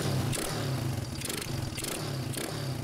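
A Honda Fury 125 motorcycle fitted with a quick throttle, with its carburetor still slightly mistuned, revs in repeated quick bursts over a steady idle, loud and close with no talking.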